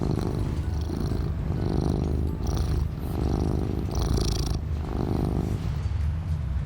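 A cat purrs close up in a loud, continuous, rhythmic rumble that pulses steadily throughout, with no talking.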